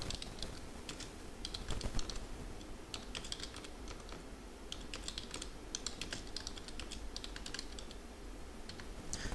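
Quick, continuous clacking of a computer keyboard as SQL commands are typed, with the keystrokes coming in irregular bursts and nobody speaking.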